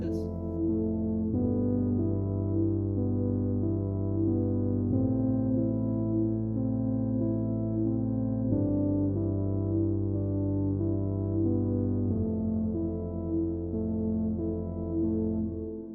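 Roland S-1 synthesizer playing a full piece: a loud, steady sustained organ-like chord pad with low bass, shifting chords every few seconds, continuous and without talk.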